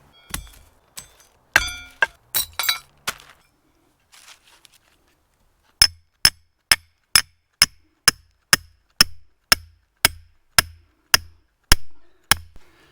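Stake being hammered into the ground for a New Jersey trap set, a series of sharp, evenly spaced metallic strikes close by, preceded by a few scattered knocks and clinks.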